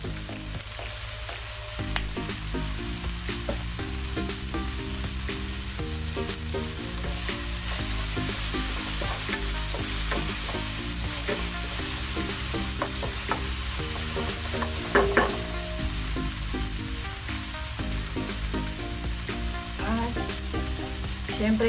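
Bottle gourd sautés with garlic powder in a pan, giving a continuous close sizzle with scattered crackles and occasional scraping stirs, steady throughout with no talking.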